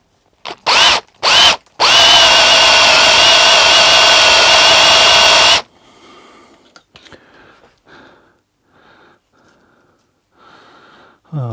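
A 7.5 mm drill bores into a Harley-Davidson Sportster fork bolt, a few short whirring bursts and then a loud, sustained high-pitched whine up close, followed by quiet clicks and faint handling sounds.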